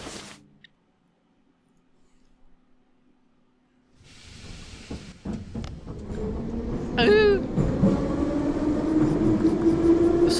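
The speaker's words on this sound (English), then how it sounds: "I should take the subway." A subway train in the dark vampire visual novel game The Hungry Town, starting after a near-silent stretch as a rising rumble with clicks and clatter, then a long brake squeal over a steady loud roll, with a brief voice exclaiming.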